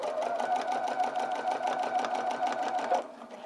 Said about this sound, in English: And then what you're going to do is sew all the way around to where you started.